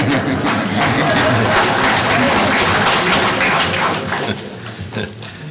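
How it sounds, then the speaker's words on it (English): Audience applause at a mining bill listening session in Ashland, Wisconsin, a dense, loud wash of clapping in a room that holds steady, then thins and tapers off near the end. "Did you want more applause?"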